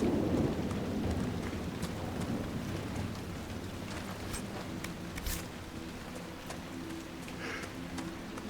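Steady rain pours in a stormy Dragon Age: Inquisition coast scene, a dense hiss throughout, with low rumbling thunder early on and scattered drip-like taps across about eight seconds.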